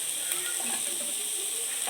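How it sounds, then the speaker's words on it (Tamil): Steady sizzling and crackling of food frying in a hot pan, a continuous hiss with faint scraping, fairly close and even throughout. "இப்போ வெங்காயம் போட்டுக்கலாம். பச்சை மிளகாய் போட்டுக்கலாம். நல்லா வதக்கிக்கலாம்."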